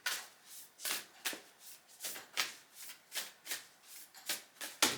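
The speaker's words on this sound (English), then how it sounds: "let's have a look at the Sacred Destiny Oracle for Capricorn" A deck of oracle cards is riffled and shuffled by hand for a tarot-style reading, giving a steady run of soft, rhythmic flutters and slaps that are fairly faint and close, with no talking.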